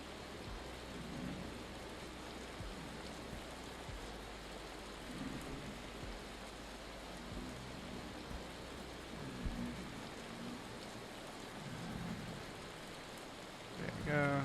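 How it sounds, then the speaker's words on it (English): Steady hail and rain patter through a thunderstorm in the Vintage Story video game, a continuous fairly quiet wash with low rumbling swells, and a brief louder burst near the end. "It's still hailing out there."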